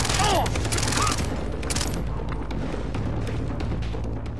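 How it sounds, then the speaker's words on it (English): Submachine gun fire in the first-person shooter Far Cry 3: a dense rattle of rapid shots in the opening seconds, then fainter scattered pops and game ambience continuing underneath. "this is an SMG, and I'm hitting guys at what I would think of as beyond an SMG's effective range"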